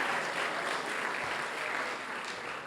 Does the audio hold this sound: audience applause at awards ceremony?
yes